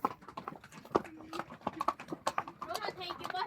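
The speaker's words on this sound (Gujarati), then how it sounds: "પાછળ જો ઘોડાની લાઈન છે આપણે 9 ઘોડા છે ટોટલ" A line of nine horses walks along a route near Kufri on a Shimla–Manali trip, their hooves clip-clopping close by in an uneven, overlapping rhythm while people talk over them.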